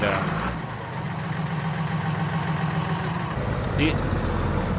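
A truck engine in Farming Simulator 19 drones at a steady idle with exhaust rumble. It stays loud and constant throughout, with a brief shift in tone near the end.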